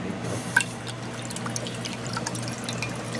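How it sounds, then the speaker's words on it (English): A school drinking fountain (bubbler) runs with a steady low trickle of water and a few faint drips, heard close and alone. "This is our school water from the bubbler."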